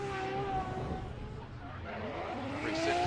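A 2JZ-powered Nissan 240SX S14 drift car on Hankook tires and STR Racing wheels runs at a Formula D event in Texas, its engine roaring with shifting pitch and tire noise under an announcer's talk.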